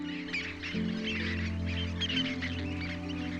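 Water birds call at a nature reserve on the Fier d'Ars coast of Île de Ré, a flock sheltering behind dikes at high tide, with overlapping chattering cries over a steady low hum, moderately close and continuous.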